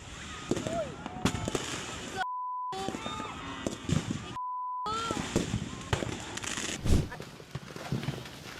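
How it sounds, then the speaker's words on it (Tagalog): Sharp cracks and bangs from fireworks going off repeatedly at irregular intervals as fireworks stores burn at New Year in Antipolo, some close and loud, with people's voices and crowd noise underneath. "Kinukunan lang ng video ang nagpuputokang fireworks na yan"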